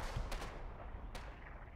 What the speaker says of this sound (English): Lob the shell. Firing.